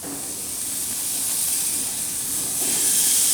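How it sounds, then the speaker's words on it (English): Mushroom Swiss burgers laid on a hot gas grill, giving a steady, bright hiss of sizzling that swells slightly toward the end, close and uninterrupted with no talking. "Let's throw these burgers on."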